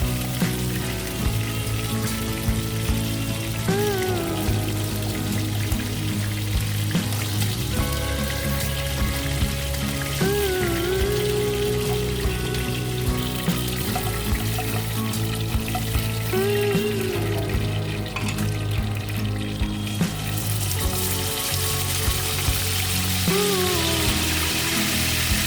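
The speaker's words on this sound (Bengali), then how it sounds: "এইভাবে চিকেনের সব টুকরোগুলো ভেজে তুলে নেব।" Chicken pieces for chicken Manchurian fry in hot oil with a continuous close sizzle that runs under loud background music throughout.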